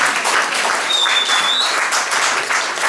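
Audience at a French song performance with guitar and harmonica claps steadily and loudly, a full close burst of applause with a faint tonal whistle briefly over it.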